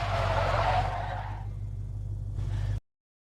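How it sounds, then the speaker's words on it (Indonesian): A car driven hard on an airport field squeals its tires in a short, loud skidding burst, easing into engine whir before cutting off abruptly, with no voices. "Kemudian John pergi ke lapangan bandara untuk melatih skill berkendaranya hingga senja tiba."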